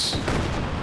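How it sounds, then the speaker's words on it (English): Katyusha rocket artillery laying a creeping barrage in Company of Heroes 2, a dense, continuous rumble of rolling booms and crackling impacts with no clear gaps, steady and fairly loud throughout. "a creeping barrage from that walking Katyusha rather"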